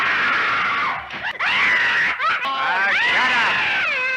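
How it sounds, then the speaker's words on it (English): A woman lets out long, shrill, wavering screams in the film The Invisible Man, loud and close, rising and falling in pitch with a few short breaks. "All she does is scream."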